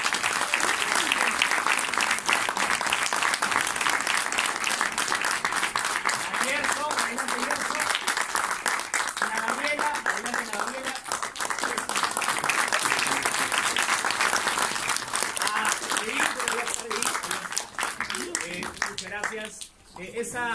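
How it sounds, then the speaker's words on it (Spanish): Sustained audience applause at a theatre festival fills the room, dense and loud throughout, with cheers and crowd voices mixed in before it thins out near the end. "Lo recibo con fuertes aplausos a Marleni."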